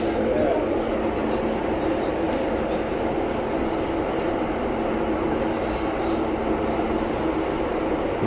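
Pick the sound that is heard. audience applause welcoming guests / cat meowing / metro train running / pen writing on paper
metro train running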